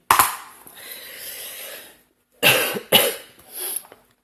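Several harsh coughs from a person with a cold, one burst at the start, then two sharp coughs close together and a softer one, with quiet rustling between them indoors.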